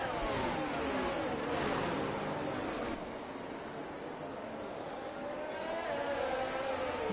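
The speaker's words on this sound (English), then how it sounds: "Everybody trying to get heat in the tyres, weaving down the straight." Formula 1 cars in F1 22 weave down the straight at the Chinese Grand Prix, their engine whine sweeping up and down as they pass, loud at first and then easing slightly.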